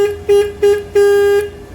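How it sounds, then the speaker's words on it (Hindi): Horn on a Bajaj Pulsar N250 motorcycle, sounding in four loud, close toots: three short ones, then a longer held blast, with a flat nasal tone and no talk over it. "ये बड़ा अजीब सा हॉर्न है यार। इसकी आवाज़ आप सुनना जरा"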